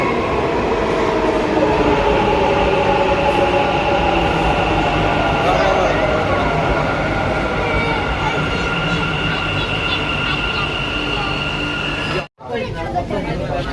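A Bengaluru metro train pulls into National College station with a loud, steady rumble and rolling roar that drops out abruptly near the end, while voices carry over the noise.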